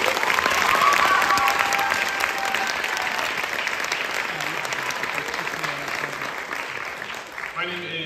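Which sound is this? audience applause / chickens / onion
audience applause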